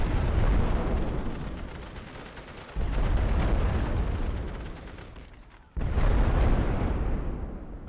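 Machine guns in a Great War strategy game set on the Western Front at the Second Battle of Champagne rattle in long, continuous bursts, loud and dense, with two sudden renewed volleys after brief fades.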